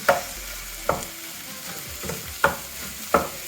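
500 grams of free-range pork fry in a pan for pad kra pao, giving a steady close sizzle broken by a few sharp clanks as the meat is stirred and broken up.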